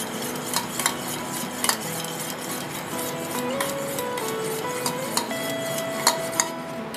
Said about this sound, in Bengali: ডিম দুটো ফেটিয়ে আমি গোলাতে থাকছি, একটু সল্ট দিয়ে দিয়েছি পরিমাণ মতো